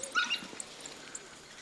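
African wild dog pups whimper and yip softly at feeding time, giving a few faint high squeaks and short calls at a distance.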